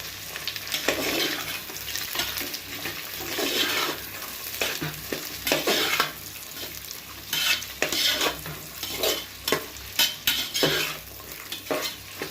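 Mixed vegetables for veg biryani sizzle and fry in hot oil while a spoon stirs and scrapes the pan in repeated bursts, close and fairly loud, with no talking.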